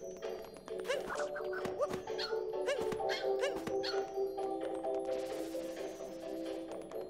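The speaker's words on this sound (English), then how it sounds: "Doggy! Doggy! Dog!" Cartoonish dog barks in Super Mario Odyssey, several quick yips and woofs spaced through the clip over steady game music and chimes, fairly close.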